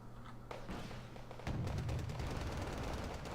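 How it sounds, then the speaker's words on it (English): Heavy 125mm tank guns fire in a Cold War-style strategy game battle, a dense burst of booming shots and thuds rolling together into a loud, continuous barrage. "Canadian rifles are just getting wiped out by those 125mm guns"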